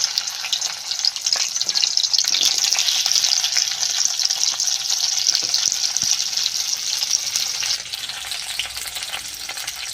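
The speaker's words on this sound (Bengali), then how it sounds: "দেখুন বন্ধুরা তেল গরম হয়ে গেছে এবং আমি ঢেঁড়সগুলো কড়াই দিয়ে দিলাম" Okra dropped into hot white oil in a wok, a loud continuous sizzle that fades a little toward the end, close and steady with no voices over it.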